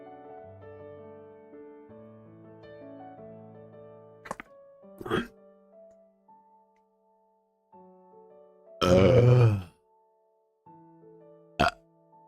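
A single loud, drawn-out burp erupts near the end, set against quiet, steady film music and a few soft thumps.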